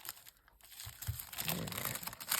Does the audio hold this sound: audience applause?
no